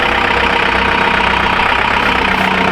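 A vehicle engine idles steadily at close range, a continuous low rumble with no talk over it, just before the vehicle backs up.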